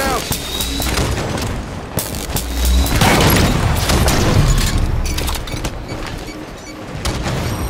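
A grenade detonates in a first-person shooter skirmish, a loud booming blast among dense, continuous gunfire and mechanical game noise, with a voice speaking over the mix.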